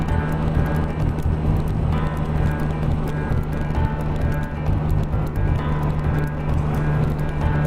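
A Can-Am Spyder F3 three-wheeled motorcycle is ridden on a sunny day, with a steady, loud engine drone and road and wind rumble throughout and no clear breaks.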